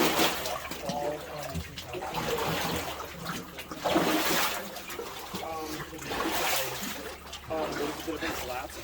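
Water flows continuously through a flooded 1878 mine, a steady broadband rush and trickle with splashing surges, heard under people talking throughout.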